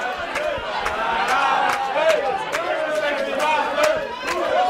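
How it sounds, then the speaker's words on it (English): A wrestling crowd chants in unison, with rhythmic repeated shouts rising and falling in a regular beat. Many voices blend together at a moderate distance, with sharp claps or stomps punctuating the chant. "The chant, the crowd agreeing."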